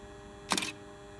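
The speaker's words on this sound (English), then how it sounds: "I'm going to take a picture now with using the shutter button in the front." A single SLR camera shutter fires on a HootBooth EventPro photo booth setup, one quick mechanical burst standing out alone against a quiet background.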